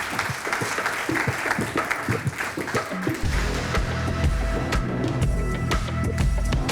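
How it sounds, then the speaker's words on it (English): An audience applauds experts at a nutrition and protein talk, with steady clapping that swells after a few seconds into fuller, louder applause and continues to the end. "if we get a round of applause for our experts"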